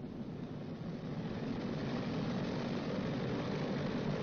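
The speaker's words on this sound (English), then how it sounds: "Advance number 1 throttle to 2000 RPM." Radial piston engines of a WWII B-29 Superfortress bomber run up, with one throttle advanced to 2000 RPM; a steady, loud, dense propeller drone holds unbroken throughout.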